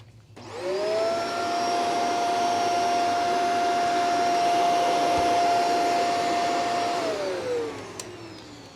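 Shark NV752 vacuum cleaner under repair, motor spinning up, running with a strong steady whine and airy roar for several seconds, then winding down, close and loud with no talking.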